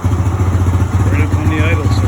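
A small E-ton Yukon 110 ATV engine runs close by with a rapid, uneven putter and a pulsing low chug, while someone speaks over it briefly.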